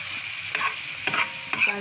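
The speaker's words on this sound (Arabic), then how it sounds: "ده صوت الاكل فش" Liver sizzles in a hot pan with a steady hiss, broken by a few scraping stirs, close by and with no talking.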